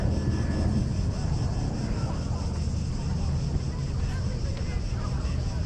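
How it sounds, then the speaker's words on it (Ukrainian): Steady low engine drone of an airplane passing overhead near a ferry port with a beach, continuous and fairly distant, with broad rumble and no talking. "Здесь чую літак."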